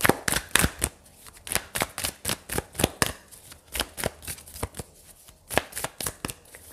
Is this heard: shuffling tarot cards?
yes